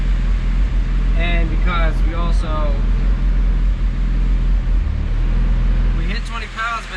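A turbocharged D16 engine in a Honda EF hatch roars through a fourth gear pull on a dyno, a loud continuous low rumble that fills the whole clip while people talk over it in the middle.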